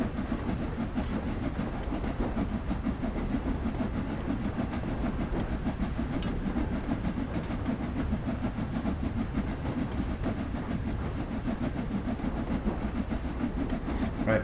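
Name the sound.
train running, Train Sim World 2 video game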